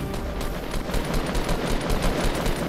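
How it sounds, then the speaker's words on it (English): Rapid gunfire in the video game Fortnite, a fast, steady stream of close shots firing at an even rhythm without pause, with no talking. "Got two shots popped off on him"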